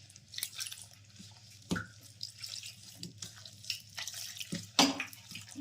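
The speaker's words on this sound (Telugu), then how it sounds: "వాటర్ పోసుకుంటే అయిపోయింది." Water trickles and drips into a bowl of wheat flour batter that has been salted for an eggless omelette-style pancake, with soft splashes and a few sharper drips over a low steady hum.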